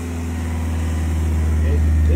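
A video game car engine runs steadily with a low, rumbling hum that builds slightly in loudness, close by.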